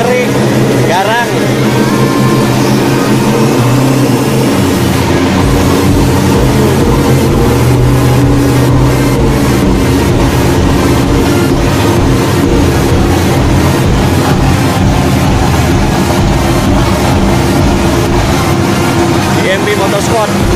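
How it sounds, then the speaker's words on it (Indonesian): Off-road rally car at a 2019 national off-road championship round, its engine idling loud and close in the paddock with a steady pulsing rumble and rising revs, a constant heavy roar throughout. "Mau dengar enggak mobil bunyinya?"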